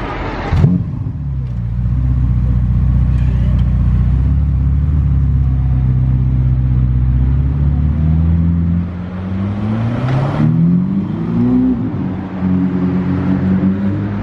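A Ferrari SF starts up with a sharp bark, then its engine idles in a deep rumble before revving up and pulling away, loud and close.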